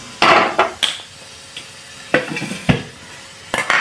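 A kadhai is set down on a gas stove, giving a few sharp, close metallic clanks and knocks spaced irregularly over a few seconds, with no talking.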